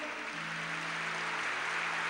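An audience at a Catholic Charismatic Renewal talk applauds, a faint, steady wash of many hands clapping heard from a distance, with a low electrical hum running beneath.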